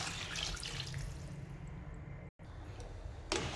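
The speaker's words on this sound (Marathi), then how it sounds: "आता यामध्ये आपण पाणी टाकून घेऊया" Water pours into a pan of soaked soybeans being cooked for a soybean tomato pulao, a steady close splashing flow that runs nearly the whole time, with a brief cut and a short burst near the end.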